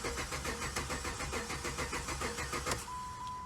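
A Dodge Charger that won't start cranks over and over, the starter churning in a fast, even rhythm without the engine catching, loud and close.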